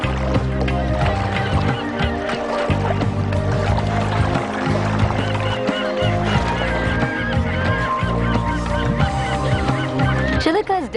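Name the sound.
grey-lag geese honking at Chilika lake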